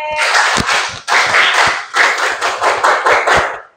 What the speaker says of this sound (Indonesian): tepuk tangan buat Laude.